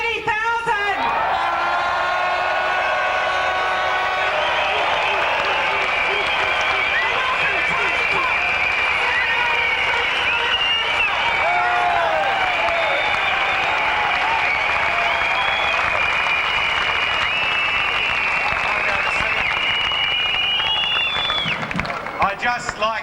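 A large crowd of about 30,000 at a 1997 Third Wave protest breaks into sustained, loud applause with scattered cheers, a dense roar of clapping that holds for over twenty seconds.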